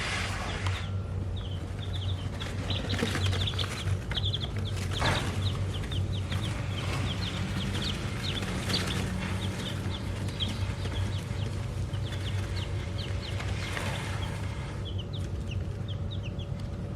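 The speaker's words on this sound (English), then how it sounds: "So Shanna was going to tell y'all about the chicks." Chickens cluck and chatter in a muddy outdoor yard, with soft, scattered clucks over a low background hum, fairly quiet and continuous.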